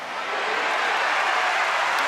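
Crowd at a Paralympic para judo final in Paris, a broad roar of cheering and clapping, steady and loud across the arena, no speech over it.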